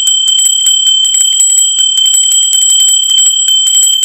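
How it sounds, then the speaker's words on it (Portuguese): A small bell rings rapidly and continuously, bright and loud, a steady trill of quick strikes with nothing else around it. "O sininho tocou"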